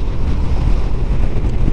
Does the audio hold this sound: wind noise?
yes